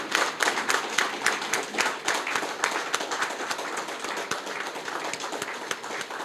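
An audience at a staff retreat and award ceremony stands and applauds, producing dense, sustained clapping at close range that continues steadily without letting up.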